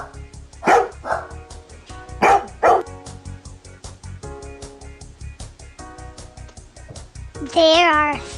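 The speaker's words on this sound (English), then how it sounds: "There are 3 dogs." A few dogs give short, loud barks in quick bursts near the start, then a faint squeaky call near the end, all over steady background music.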